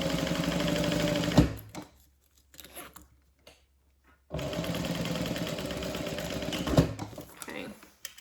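Sewing machine topstitching a Denver Double Zip Bag, a steady rapid mechanical whir that runs, stops for a few seconds with small handling noises, then starts up again and continues.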